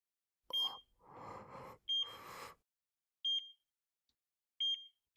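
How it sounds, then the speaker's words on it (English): Hospital monitoring device in a visual novel game, emitting short high electronic beeps at regular intervals, about four evenly spaced, alternating with soft murmured voice fragments between them. "I could hear a monitoring device near her beeping at regular intervals."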